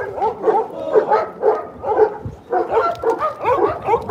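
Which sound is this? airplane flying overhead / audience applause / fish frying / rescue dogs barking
rescue dogs barking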